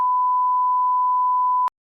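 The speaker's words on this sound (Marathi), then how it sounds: "इथं बीप करायला लागल मला." A single steady censor beep, a pure mid-pitched tone held loud and alone for about one and a half seconds before cutting off sharply, in a comedy skit from a college function.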